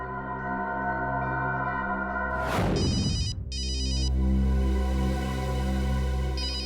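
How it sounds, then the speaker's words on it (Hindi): A telephone rings in an indoor crime-drama scene over steady background music, with a bright electronic ringtone pattern repeating after a brief sweeping whoosh, loud and close with no talking. "Unknown number. हो सकता है ये अखिल का फोन है, उठाइए"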